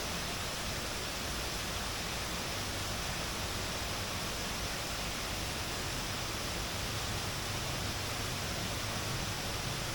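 Steady, broadband rush of an artificial waterfall with fake cascading water, a constant loud hiss that holds unchanged throughout with no voices.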